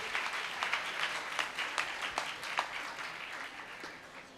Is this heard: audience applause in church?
yes